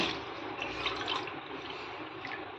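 Water pours steadily into a cooking pot of rice and vegetables for brinji rice, a continuous close splashing rush at moderate level with no talk.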